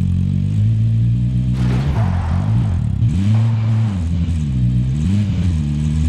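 A car driving in Call of Duty Warzone, its engine droning loudly throughout and rising and falling in pitch as it revs and eases off, with no voices over it.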